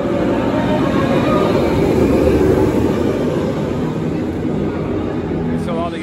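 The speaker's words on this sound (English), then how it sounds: "the train's coming right under us right now" A train at Magic Kingdom rolls past right below the listener, a loud steady rumble that holds throughout, with people talking close by.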